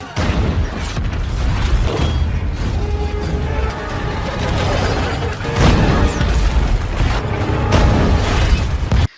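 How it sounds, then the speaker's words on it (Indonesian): Tank cannon fire and explosions from the war film Wolf Warrior 2 come as loud, heavy booms over rumbling mechanical noise and a dense battle din, with several large blasts across the scene. "Mereka menghancurkan satu persatu tank milik pemberontak tersebut."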